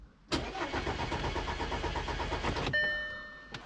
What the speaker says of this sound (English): start the engine, or try and start the engine at least, let it crank over